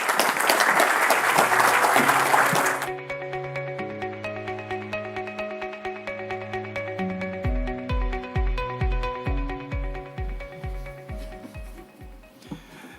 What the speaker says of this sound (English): Let's please give another round of applause to Professor José Vieira.